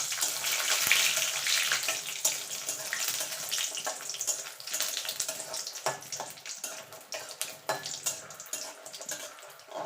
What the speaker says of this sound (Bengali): প্রথমে বড়িগুলোকে আমি ভেজে নেব